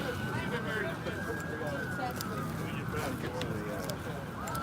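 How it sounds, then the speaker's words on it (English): A siren wails faintly in the distance at a street rally and counter-protest in Portland, Oregon, its tone gliding steadily beneath a constant outdoor rumble and scattered voices. "I hear sirens."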